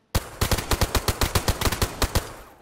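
Rapid bursts of automatic gunfire in the DayZ video game on PlayStation 5, roughly fifteen sharp, loud shots in an uneven rhythm, fired at a gate during a base raid, with no talking over them.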